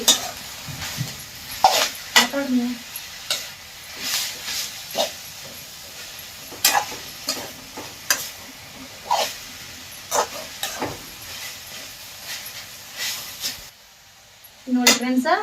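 Soaked toor dal sizzles and hisses as it fries in hot oil in a pan, with repeated stirring scrapes and clinks of a utensil against the pan, while someone talks over the cooking.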